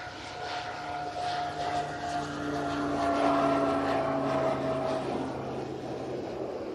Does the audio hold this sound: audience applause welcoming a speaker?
no